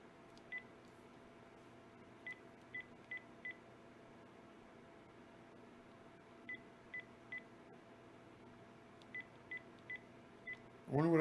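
Touch-tone keypad tones from a phone as a number is dialed: short evenly pitched beeps in quick bursts of three or four, separated by pauses, faint over a low steady room hum, with a louder sound bursting in at the very end.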